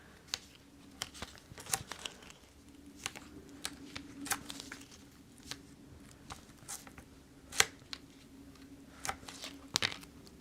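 Card paper being trimmed to size for handmade watercolor Valentine's Day cards, heard as a run of quiet crisp snips and rustles that repeat irregularly, with several sharper cuts standing out, close by and soft overall.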